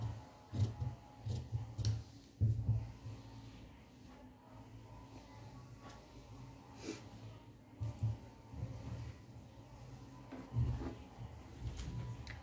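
Scissors cut fabric on the bias into a 2-inch strip, making soft, irregular snips and clicks close by in a quiet room.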